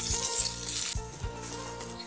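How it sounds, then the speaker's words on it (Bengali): Bitter gourd and drumstick pieces fry in mustard oil in a kadai, giving a continuous close sizzle with a few soft stirring knocks. "বড়িগুলো তুলে নিয়ে আবারও কিছুটা সর্ষের তেল দিয়ে উচ্ছে আর সজনে ডাঁটাগুলো ভেজে ফেলব"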